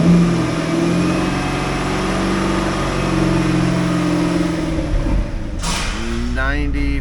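A 2006 Cadillac XLR's 4.6L LH2 V8 runs steadily with a low, even drone, then briefly rises in a rev near the end, heard up close over background noise.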